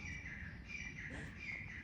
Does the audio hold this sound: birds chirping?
yes